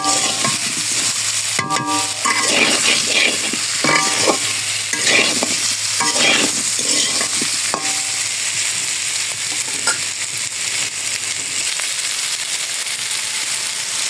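Food frying in a home kitchen pan, with a steady sizzle throughout and repeated scraping stirs of a spatula against the pan, loud and close, with no talk.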